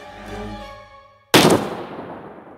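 A single loud gunshot effect in a Filipino aswang horror story cracks sharply right after a sustained tonal drone cuts out, then decays in a short echoing tail.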